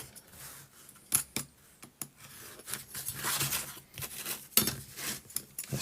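Craft knife drawn along a ruler through model card, a series of short scratchy scoring strokes and light taps at a close, quiet level, with no talking.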